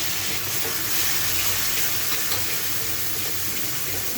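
Spice paste of ground cashew and poppy seed sizzling and frying in a pan while cooking banana stem with paneer, a steady close hiss with faint stirring scrapes, no talk.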